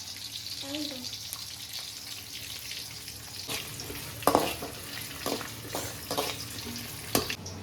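Sliced onions and ginger frying in oil for home-made lemon chicken, a soft steady sizzle with scattered clicks and scrapes from stirring, fairly quiet and close.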